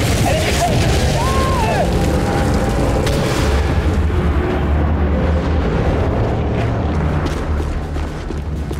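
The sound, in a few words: missile impact explosion in video game The Bureau: XCOM Declassified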